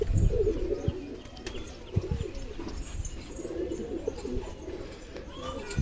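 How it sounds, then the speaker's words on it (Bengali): Teddy pigeons kept for sale coo softly nearby in low repeated murmurs, with a few chirps and rustles and a voice talking over them. "এটা নরের, এটা নর পায়রা।"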